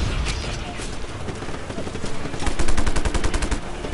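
Rapid gunfire in the open-world action game Just Cause 3, a dense machine-gun burst swelling louder toward the end over steady game noise, with a voice talking underneath.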